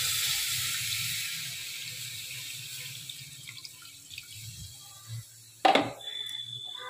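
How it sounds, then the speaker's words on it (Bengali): Water pours into a pot of spiced potato curry, a hissing stream fading over several seconds, then a short louder splash and clatter near the end, with low kitchen hum underneath. "একটু জল দিয়ে নেব।"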